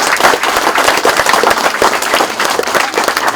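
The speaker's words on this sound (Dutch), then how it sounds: "Mi giu een applaus voor favor ko." A crowd at an outdoor gathering claps in loud, dense applause, with many hands beating fast and unevenly in a close, sustained burst that carries on without any talking over it.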